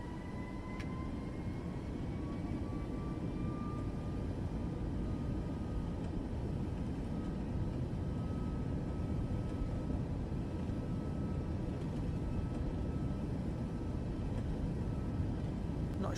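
Aircraft engine held at maximum takeoff power in the Flight Simulator video game, a steady, even roar with a faint whine that stays constant throughout.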